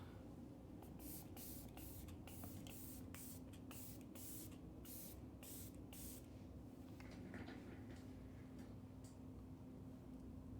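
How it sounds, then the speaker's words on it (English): A rapid series of short facial misting sprays hisses close by, bursts coming in quick succession, then quieting into a soft steady hiss. "Now I'm going to spray the Hydro Drip again."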